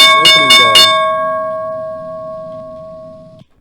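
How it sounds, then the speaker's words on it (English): A stock market opening bell rings in three quick, bright strikes, then a long ringing tone decays steadily for about three seconds before cutting off. "There's the opening bell."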